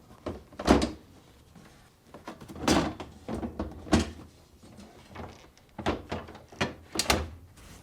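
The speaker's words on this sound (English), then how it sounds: "Now, tilt the front down and position it on the slides." A Whirlpool freezer drawer is tilted and set onto its slides, giving a series of close plastic clunks, thunks and scraping knocks spaced irregularly across several seconds.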